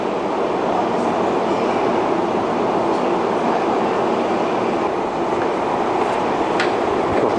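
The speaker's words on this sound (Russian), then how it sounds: "Столичное метро. Мы на Добрынинской станции поднимаемся наверх." A Moscow metro train runs through Dobryninskaya station, its continuous loud underground rumble and rattling wheels filling the space, with faint squeals and clicks near the end.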